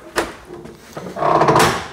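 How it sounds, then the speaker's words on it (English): A creaky door at Melbourne Observatory is opened, with a sharp knock or latch click followed by a louder scraping swing after a short pause. "Open the door."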